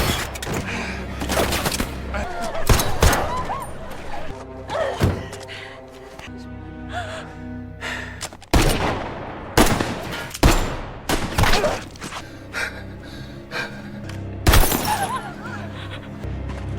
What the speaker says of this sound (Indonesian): ia menembak dan memecahkan kaca mobil di dekat sana.